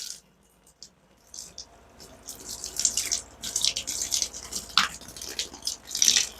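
Thin, irregular splashing of low-pressure water from a tap in an off-grid greenhouse, starting faint and growing steadier, with a few louder splashes and drips.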